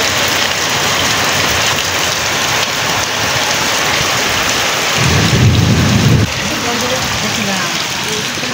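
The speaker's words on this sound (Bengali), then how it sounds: "এদিকে দেখো বৃষ্টি শুরু হয়ে গেছে, তুমুল ভালো রকম বৃষ্টি হচ্ছে।" Heavy monsoon rain pours steadily in a dense, loud hiss, with a brief deeper rumble of thunder partway through.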